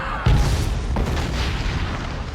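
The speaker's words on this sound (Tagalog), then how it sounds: "Sunod-sunod ang pagsabog sa Besham" A scene in a war film has explosions in quick succession: a heavy, close boom hits early, a second thud follows under a second later, and rumbling debris noise continues throughout.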